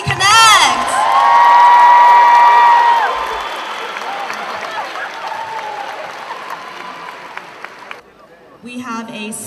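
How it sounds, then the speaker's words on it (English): An audience at a Kukkiwon taekwondo demonstration cheers, whoops and applauds loudly, with shrill shouts early on, then the clapping slowly thins and fades out near the end. "One more round of applause for DMV Connect!"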